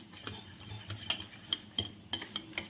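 A spoon stirs kunafa batter in a bowl until it is smooth, giving soft swishing with a string of light, sharp clicks against the bowl's sides, close and fairly quiet.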